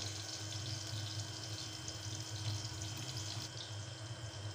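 Onions frying in oil in a home kitchen while cooking rajma, a steady, close, continuous sizzle with a faint crackling hiss throughout and no talking.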